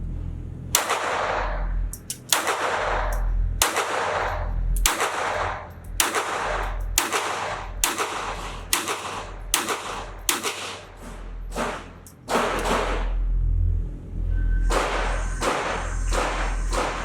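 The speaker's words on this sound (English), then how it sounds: "let's then put another magazine down range and see if the grouping gets any better." A Ruger 22/45 Lite Mk IV lightweight target pistol with a red dot sight fires a magazine of sharp, loud shots at a steady, even pace at a range. A brief pause splits the string near the end, with no talk.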